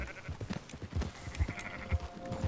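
Sheep being driven along in Red Dead Redemption II, with a few thin, wavering bleats over a bed of soft hoof steps and low thumps, moderately quiet and close.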